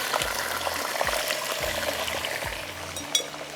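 Chicken frying in a pan with cardamom and cinnamon, a steady close sizzle with soft scraping stirs and one brief clink near the end.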